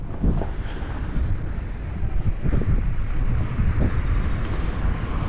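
Steady wind buffeting a microphone outdoors in a park in Manurewa, Auckland, New Zealand, a continuous low rumble with gusty swells throughout, no voices.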